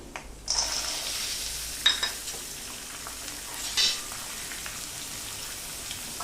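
Frozen peas hitting a hot pan of cabbage stir-fry, giving a steady close sizzle with a few sharper crackles and stirring scrapes, no talking.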